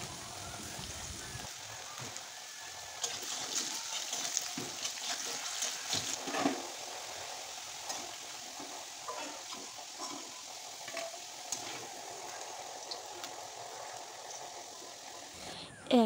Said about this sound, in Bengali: এবার কড়াইতে তেল দিয়ে দিয়েছি, কেটে রাখা আলুগুলো দিয়ে দিলাম, সামান্য লবণ দিয়ে ভেজে তুলে নেব